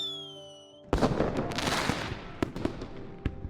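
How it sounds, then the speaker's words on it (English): Fireworks in the Love and Deepspace game burst with a sudden loud crack after a fading tone, followed by crackling sizzle and several sharp pops spread across the dark sky at the end of a music festival. "The dark sky is pierced by a shrieking trail as fireworks explode."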